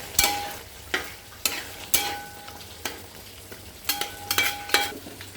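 Kerala-style chicken curry masala with garam masala being stirred in a pan, a utensil clattering and scraping in sharp bursts over a soft sizzle, loud and close with no talk.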